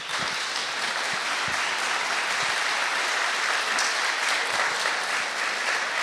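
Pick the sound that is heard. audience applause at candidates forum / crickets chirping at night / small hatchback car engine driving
audience applause at candidates forum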